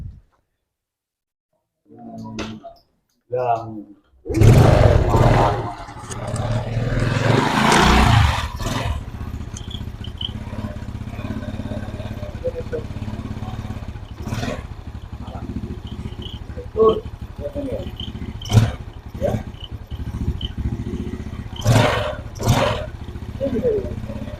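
A faulty motorcycle engine that sputters and stalls starts with a clattering crank, roars briefly, then settles into a steady idle with occasional ticks and knocks.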